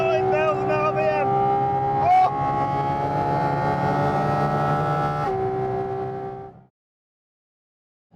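The engine of a Porsche 718 Cayman GT4 RS screaming up to 9,000 RPM in fourth gear on the Estoril circuit, a loud, high rising wail with a gear change midway before it cuts off abruptly.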